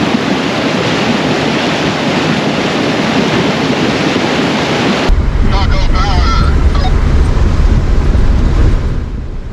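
A vehicle pushes through floodwater covering a forest service road, heavy rushing and splashing water with wind buffeting the microphone, shifting midway to a deeper, louder churning rumble of water and engine.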